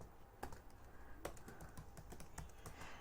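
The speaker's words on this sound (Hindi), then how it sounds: "डायरेक्टली ईमेल आईडी है तो हम ईमेल आईडी टाइप करेंगे।" Keys clatter on a computer keyboard as an email address is typed, a steady run of quick, light clicks with a few sharper strokes, close and alone with no voice.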